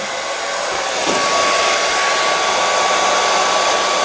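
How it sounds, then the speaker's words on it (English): An old heat gun blows with a loud, steady roar and a faint whine at close range while heating a piece of old thermoplastic drip tubing, with no speech. "So I'm going to heat it up a bit. My old heat gun."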